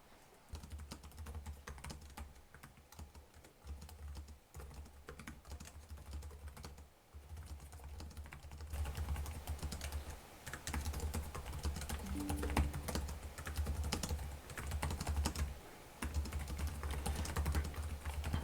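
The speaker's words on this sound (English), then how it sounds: "Let's give it a quick typing test here and see what it's like though." Laptop keyboard typing on a Lenovo ThinkPad L14 Gen 5 (AMD), a steady run of close key clicks that grows louder and busier partway through, with no talking.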